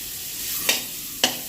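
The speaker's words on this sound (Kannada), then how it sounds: "ಇದೇ ಬಾಣಲೆಗೆ ಬಟರ್ನ ಸೇರಿಸ್ಬಿಟ್ಟು ಚಿಕನ್ನ ಫ್ರೈ ಮಾಡ್ಕೊಂಡ್ರೆ ಆಯಿತು" Marinated chicken frying in butter in a pan gives a steady soft sizzle, broken by two brief louder scrapes or stirs about half a second apart.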